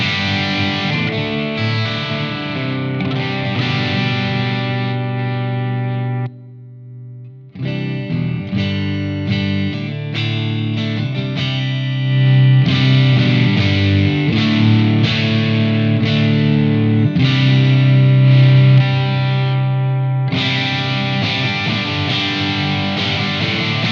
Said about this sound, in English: Reverb, if you want to add some reverb to bring a bit more life again.